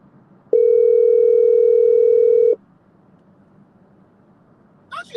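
An iPhone outgoing call plays a single steady ringback tone lasting about two seconds, loud and close, then stops and leaves quiet background noise before a brief rustle.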